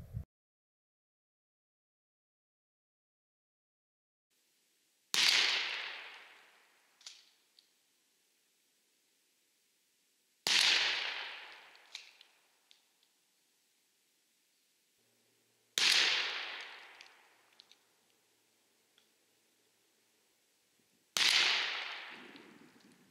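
Shotgun firing Federal Premium Grand Slam turkey loads at turkey targets 45 yards out, four loud sharp blasts spaced about five seconds apart, each with a short echoing tail.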